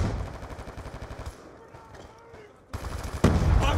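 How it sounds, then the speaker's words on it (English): Gunfire from a Death Machine minigun in the Black Ops 2 multiplayer game on the Nuketown map, rapid bursts at the start and again loudly at the end, with a quieter gap in between and game voice callouts. "hostile death machine spinning up."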